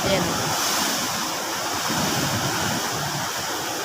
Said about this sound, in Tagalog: Yung impact ng alon sa tabing, sa tabi grabe